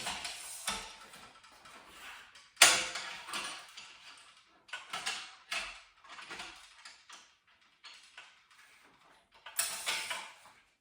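A stringing machine tensions the string on a 2020 Babolat Pure Drive racket, giving several separate bursts of mechanical ratcheting and creaking with quiet gaps between them, close and fairly soft.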